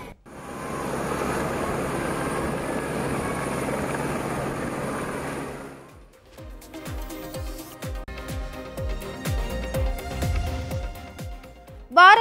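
A loud, steady helicopter rotor drone, from a helicopter showering flowers over a temple tower, fills the first half, then cuts to a lower rumbling mechanical hum with rhythmic thumps.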